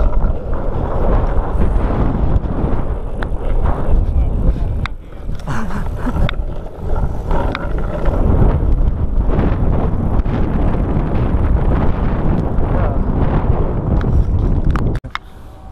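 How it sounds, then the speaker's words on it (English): Strong wind buffets the microphone in a loud, continuous low roar for the whole stretch, with gusty swells and some faint background clatter. "this wind though"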